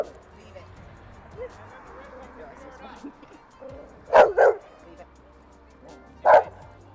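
An aggressive dog during a socialization training session barks in a few sharp, loud bursts, with a quick double bark followed by a single one, amid quieter whimpers and background noise.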